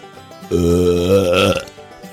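A single loud, wet belch lasting about a second, close and isolated, with quiet before and after.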